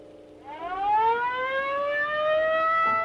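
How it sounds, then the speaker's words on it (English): A warning siren winds up from a low tone to a loud, steady wail that holds near its peak pitch. "The warning siren."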